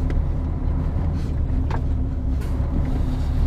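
A MAN TGA 26.410 truck, a 2003 model with a 410 hp diesel engine, begins to pull away, giving a steady low engine rumble with a few faint knocks over it, close by and with no talk.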